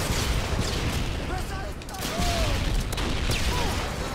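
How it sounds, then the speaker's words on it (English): Stun grenades tossed in Call of Duty: Modern Warfare 2 on the Terminal map during Search and Destroy, a dense, loud wash of game noise with bursts and blasts, heard close under a steady roar. "Let's toss some stun grenade"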